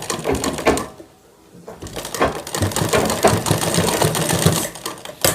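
A sewing machine stitches a shirt seam in a fast, continuous mechanical chatter, pauses briefly for about half a second, then resumes running steadily.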